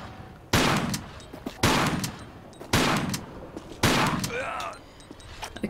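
Four loud shotgun blasts in a Tomb Raider level editor game come about a second apart, each a sharp close crack with a short decaying tail, and a brief ringing pickup-like chime follows the last one.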